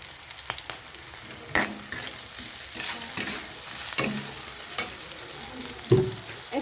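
Onions fry in oil with salt and turmeric while a spatula stirs them, giving a continuous close hiss and crackle broken by scraping strokes against the pan.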